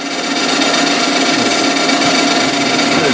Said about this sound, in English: So put the saw on.